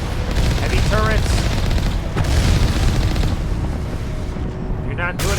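Heavy turrets firing in the Mass Effect video game, loud continuous booming gunfire with dense rumbling blasts, plus a couple of brief electronic chirps over the barrage.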